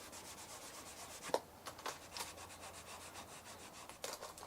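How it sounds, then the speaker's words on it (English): A clean cloth soaked in alcohol is wiped over RV skirting surfaces, making faint, soft rubbing strokes close by in an otherwise quiet setting. "I'm going to clean off those areas really well with the alcohol."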